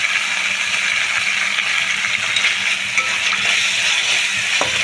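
Tomato spice masala fries steadily in hot oil in a pan, a continuous bright sizzle with occasional stirring scrapes, close and fairly loud, with no talking.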